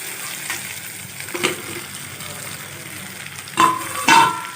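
Okra sautéing with onion and tomato in a pan for a tamarind okra dish sizzles softly, and a utensil scrapes and stirs in a few louder bursts near the end.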